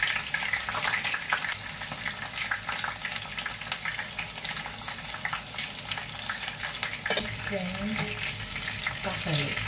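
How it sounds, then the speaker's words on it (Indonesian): Stuffed peppers filled with fish meat fry in hot oil, a steady dense sizzle and crackle running throughout, loud and close, with a few faint clinks near the end. "Saatnya kita menggoreng."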